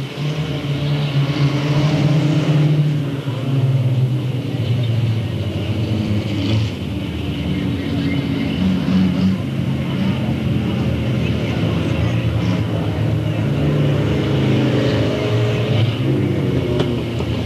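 Race cars battle for third place at Delta Speedway in a September 2000 main event, their engines roaring in a loud, continuous wash of noise that rises and falls as they pass, with an announcer's voice over it.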